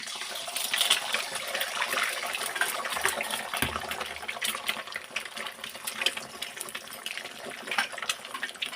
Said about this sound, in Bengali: তেল গরম হয়ে গেছে, এবার আমি ডিম দুটোকে ফাটিয়ে দিয়ে দেবো।